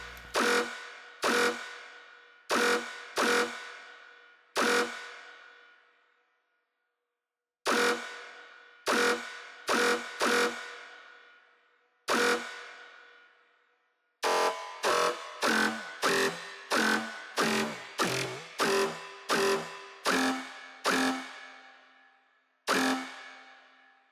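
Sharp FX one-shots hit repeatedly, each a bright distorted burst with a resonant, ringing tail shaped by a convolver and high-pass filter, arriving in uneven clusters separated by brief silences.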